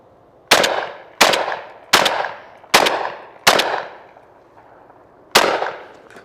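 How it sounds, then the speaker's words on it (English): MAC 1014 shotgun firing S&B number 4 shot, six loud, sharp reports in a quick, fairly even string, with a noticeably longer gap before the last round, each shot ringing briefly outdoors. "This is S&B number 4 shot. I've got 6 rounds loaded, so let's see how it runs."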